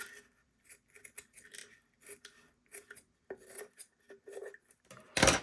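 Scissors snip and trim the top of a handmade Christmas lantern ornament, a run of short, crisp close-up cuts and light rubs, ending in a louder burst of rustling.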